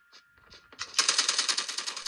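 Rapid automatic gunfire from a mobile shooter game on a Nubia RedMagic 6 gaming phone, starting with a few faint shots, then a loud sustained burst of quick, even bursts in the last second and more.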